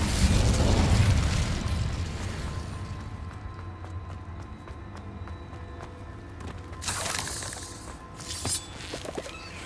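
Incendio fire spell cast in Hogwarts Legacy: a loud fiery whoosh and burst at the start that fades into crackling, followed by two more flaring bursts later.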